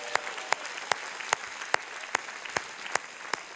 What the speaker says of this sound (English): Can we give the Lord a hand clap offering for his word?